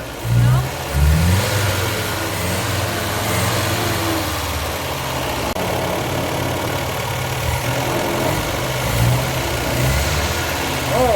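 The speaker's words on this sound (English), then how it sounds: "Not popping back through the carburetor anymore." A 1953 Austin A40 Somerset engine runs after a tune-up, a steady low idle with a few brief revs, close by.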